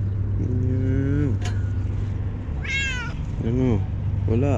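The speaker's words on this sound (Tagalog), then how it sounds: "May pusang gutom." A hungry cat meows several times up close, with drawn-out, rising and falling cries separated by short pauses over a low steady background hum.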